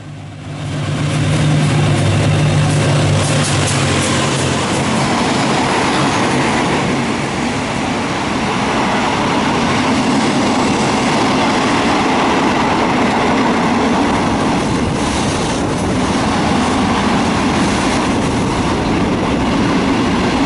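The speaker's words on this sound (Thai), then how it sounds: "มีรถไฟกำลังจะวิ่งผ่านมาสายนี้ครับ" A train rumbles steadily through Pranburi railway station at night at close range, a loud continuous roar of wheels and engine with faint rhythmic clatter, lasting throughout without any voices.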